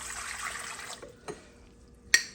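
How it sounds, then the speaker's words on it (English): Warm water runs from a tap into a measuring container for a baking recipe, a steady splashing stream for about a second before it stops, then a small clink. "Okay, so we're gonna start with 2 cups warm water."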